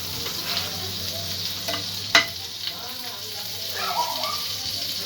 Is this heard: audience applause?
no